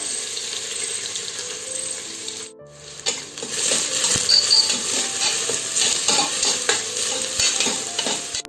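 Sliced onions sauté in oil for a vegetable biryani, with steady sizzling and repeated scraping and clinking of a spoon stirring the pan; a brief lull comes early, then the frying grows louder and busier.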